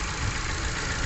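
A Ford EcoSport automatic with a stalling fault and O2 sensor and fuel-control codes, its engine shaking at a rough idle; a close, steady, dense rumble with uneven knocking throughout.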